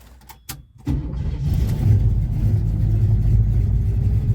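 A car engine, once seized and now swapped into the vehicle, cranks briefly and then catches, settling into a steady, loud idle up close with no talk over it.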